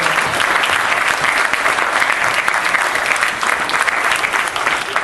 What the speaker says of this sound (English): I want everybody to give a round of applause to our CONCOM